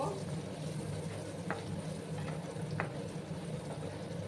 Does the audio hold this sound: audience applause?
no